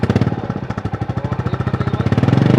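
Royal Enfield Bullet 350 BS6 single-cylinder motorcycle idling up close, a loud, even thumping beat of rapid regular pulses with no talk.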